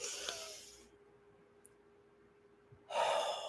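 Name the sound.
deep breath in and out during breathing exercise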